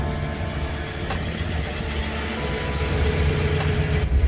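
A 1967 Pontiac GTO engine idles at a steady low rumble close by, with a faint rise in loudness toward the end and no talk over it.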